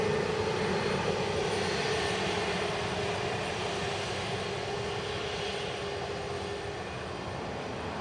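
An ATR turboprop aircraft near Leeds Bradford gives a steady, distant engine drone that holds at a constant low level for several seconds, with no voices.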